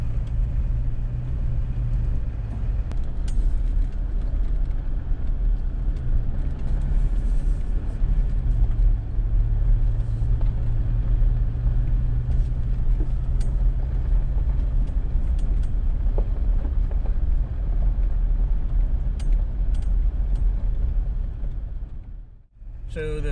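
A car rolls down a narrow spur road in South Carolina toward a clearing, its steady engine rumble and tyre noise continuous and close, with brief speech over it, before the sound drops away at the end.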